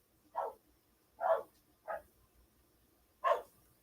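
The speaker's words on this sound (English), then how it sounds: "the dogs started barking again" Dog barks sound four times in separate bursts, muffled and moderately distant, with pauses between them and quiet background otherwise.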